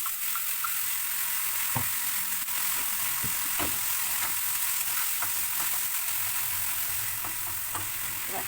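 Whole cumin seeds, bay leaf and a whole dried red chili tempering in hot oil, giving a steady close sizzle with scattered small pops and crackles throughout, no talking.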